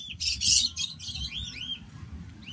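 A pet cockatiel named Harry gives several bright, close chirps and upswept whistled calls in quick succession, loud against a quiet indoor background with no talking.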